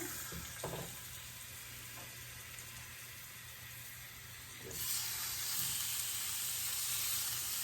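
Bone-in lemon pepper chicken pieces sizzle steadily after being laid seasoned side down in a hot oiled pan, the frying hiss swelling louder partway through with a few small clinks and no talking.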